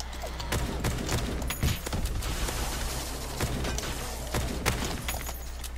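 Repeated shotgun blasts in a Roblox zombie shooter, several sharp reports scattered over a dense, steady game backdrop of effects and low rumble, fairly loud and close.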